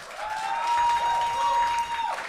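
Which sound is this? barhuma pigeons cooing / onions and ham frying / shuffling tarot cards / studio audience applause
studio audience applause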